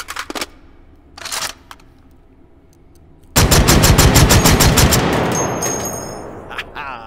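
In the VR game H3VR, a few sharp isolated bangs, then a rapid burst of loud repeated unsuppressed shotgun shots, with a ringing tail and faint clicks afterward.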